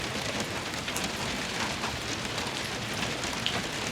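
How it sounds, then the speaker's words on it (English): Heavy rain pours steadily over a building site during interior grading work, a dense, continuous hiss close and loud throughout with no talk. "Well, I finished just in time, and now it's pouring out."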